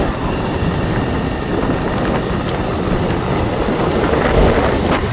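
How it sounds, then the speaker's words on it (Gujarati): The Malan river in flood rushes over its banks after the overflow gates opened, a dense, steady roar of water running throughout with some wind buffeting the microphone and no voices. "અત્યારે ના જોરદાર પાણી આવે છે, કારણ કે એના કમાડિયા ખુલી ગયા છે ઓવરફ્લોના લીધે"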